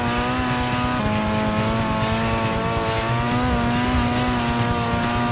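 A race car engine in Gran Turismo 6 holds a loud, steady high-revving drone throughout, with the pitch climbing gently while accelerating under steady throttle.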